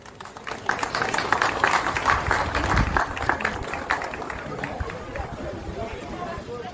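An audience at an outdoor town fountain festival claps steadily for several seconds, a dense patter of many hands with crowd murmur and a voice mixed in.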